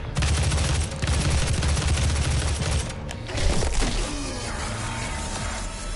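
Dense, loud gunfire from the video game DOOM (2016), continuous rapid shots for the first three seconds, then a brief dip and more heavy impacts and blasts, with no talk over them.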